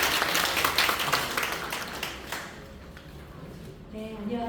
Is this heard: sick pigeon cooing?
no